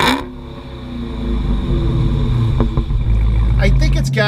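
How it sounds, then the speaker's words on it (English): A 2015 Dodge Charger SRT Hellcat's supercharged engine rumbles deep and steady through its exhaust, rising slightly as it builds, with a voice speaking over it near the start. "you can hear all of those horses going out the exhaust and back"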